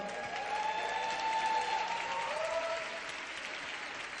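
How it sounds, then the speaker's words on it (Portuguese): A church audience applauding to welcome a pastor at a morning service: dense, steady clapping from a large crowd, heard from a distance, with a faint sustained tone underneath that fades toward the end. "receber com uma salva de palmas o pastor Zach Nise nesta manhã"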